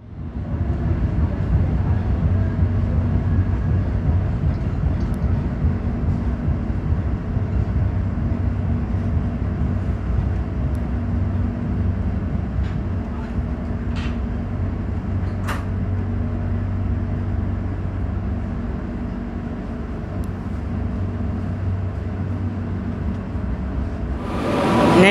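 The Tegal Bahari passenger train rolls steadily as it pulls into Bekasi station, with a continuous low rumble heard from inside the carriage and faint clicks over it, close and even throughout.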